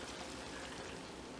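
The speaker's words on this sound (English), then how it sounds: "now we're going to add the water" Water poured into a pot of fruit for hot pepper jelly, a steady, soft pouring rush heard up close without talk.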